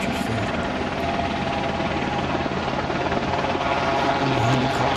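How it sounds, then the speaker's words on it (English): A helicopter flies low over a flooded area in Gloucestershire to land at a campsite, its rotor chopping in a loud, steady drone that holds constant throughout. "Helicopter making a sortie to land in the campsite at the centre."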